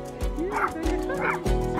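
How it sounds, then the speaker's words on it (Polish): Small dogs bark in a few short yips and bow-wows, close by, mixed with whimpering and a tonal background. "To są te pieski mordercy?"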